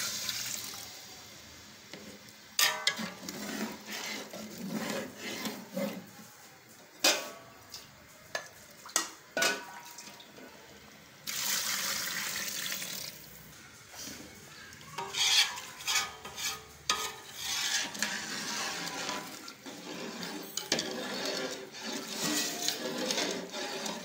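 Yakhni stock poured into fried masala for chicken biryani gives bursts of hissing sizzle and sloshing liquid, with stirring scrapes and uneven surges, close and fairly loud.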